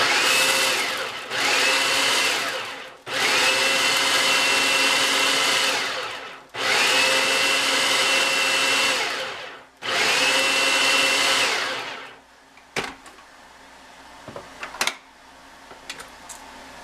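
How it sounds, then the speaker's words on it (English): A food processor pulses homemade Larabar dough with chocolate chips in four long whirring bursts separated by brief pauses, close and loud, followed by quieter clicks and clatter as it stops. "I'm just going to pulse it just to incorporate those chocolate chips"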